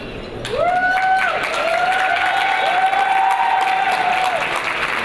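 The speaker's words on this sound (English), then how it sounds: "I'd like just some clapping and some screaming from the 60 guys in the room." About sixty yeshiva students clapping and screaming at a gala event, loud sustained crowd applause with rising whoops and shouts over the top throughout.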